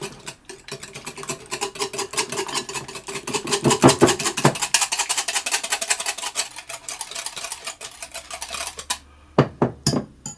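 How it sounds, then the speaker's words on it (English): Egg being whisked into creme fraiche for a chicken and vegetable pie, a fast, steady run of clicking and scraping strokes against the bowl for about nine seconds, then a few separate taps near the end. "I'm going to put my egg into my creme fraiche, and I'm going to whisk those together to get them fully combined."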